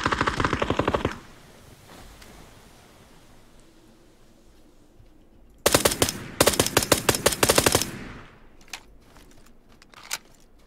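Bursts of rapid automatic video-game gunfire fired at the ground: a loud opening burst, then after a quiet stretch several dense volleys, trailing into a few scattered single shots, with no talk.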